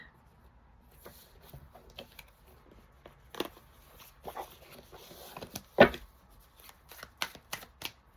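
Tarot cards being shuffled by hand, heard as a close series of crisp riffling and slapping bursts that grow busier toward the end, with no talking.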